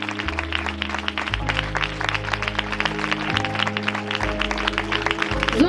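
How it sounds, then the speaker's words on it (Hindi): Church congregation clapping loudly and rhythmically along with live music, with a deep bass line that shifts notes beneath steady, crisp handclaps throughout. "जोरदार तालियां बजाएंगे।"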